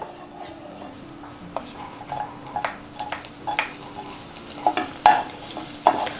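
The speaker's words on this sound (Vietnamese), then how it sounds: "Mọi người phi hành cho nó vàng đều nha mọi người." Shallots sizzle in hot oil in a pan, a steady close frying hiss broken by clinking stirring strokes of a utensil against the pan, with a voice faintly present at times.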